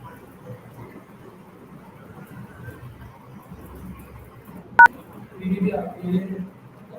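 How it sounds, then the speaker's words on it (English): A single short electronic dial tone beep sounds once, brief and clear, while quiet background noise and faint voices continue around it. "I am calling Penny."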